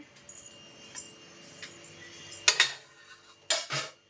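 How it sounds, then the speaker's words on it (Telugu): Dishes and cutlery clink and clatter nearby, with a few sharp metallic knocks against a quiet kitchen background. "గిన్నెలన్నీ కూడా కడిగేస్తాను"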